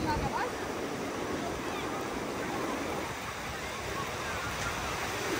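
Waves wash in on a beach near Christchurch, New Zealand, a steady broad rushing hiss of water and surf, fairly loud and continuous with no clear breaks.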